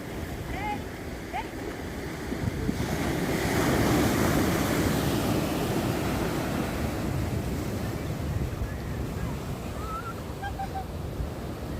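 Sea waves roll and wash onto the shore at Pozhikkara beach in Kerala, a broad surging roar that swells in the middle and is mixed with wind buffeting the microphone, with faint birdlike chirps in the background.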